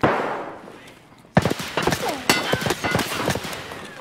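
Close bursts of gunfire fill a gunfight in Escape from Tarkov: a rapid string of sharp shots begins after a brief faint lead-in and carries on in irregular volleys, loud and near, with voices talking in between.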